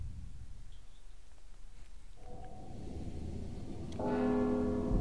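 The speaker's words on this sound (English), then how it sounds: "Don't you hear the bell?" A bell rings in the stealth video game Mark of the Ninja. Quiet game ambience comes first, then a sustained ringing tone enters and swells into a louder, layered bell toll near the end, with no talking.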